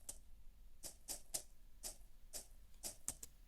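Lo-fi shaker percussion loop with a tape color effect and trimmed low end, a steady groove of soft rattling hits, about a dozen evenly spaced strokes over a faint hiss bed.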